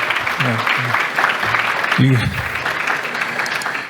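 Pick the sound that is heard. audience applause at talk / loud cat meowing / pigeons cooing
audience applause at talk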